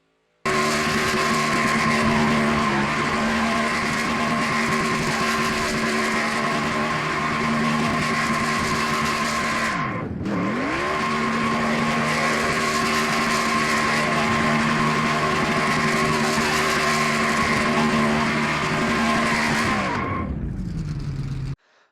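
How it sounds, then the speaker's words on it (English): A racing truck in the Auto Club race of a racing video game holds a long, loud tire-squealing burnout with a steady revving engine, briefly dipping at the midpoint before resuming and cutting off near the end. "We have our first live burnout"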